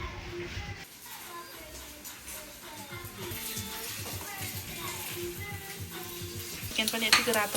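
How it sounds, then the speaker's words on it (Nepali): Chicken browning in a hot pan for Nepali-style thukpa, a constant crackling sizzle with repeated scraping and stirring of a utensil against the pan, growing busier toward the end. "अब चाहिँ यो चिकन चाहिँ यति भुट्दा हुन्छ हैन?"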